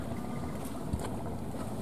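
Boat engine and water noise near a Ninh Thuận seafood-buying boat, a roughly 24-metre vessel numbered 888, as it comes alongside a trawler. The low, steady rumble is mixed with wind, with a brief knock near the middle.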